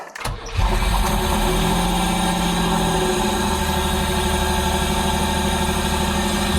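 Pontiac Fiero engine cranks and catches, then settles into a steady, even idle close to the microphone with a constant rhythmic thrum and no voices.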